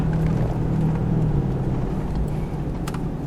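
A 2001 Ford Explorer Sport with its original engine and transmission cruising on the road, a loud steady low engine drone and road rumble heard from inside the cabin, with no talk.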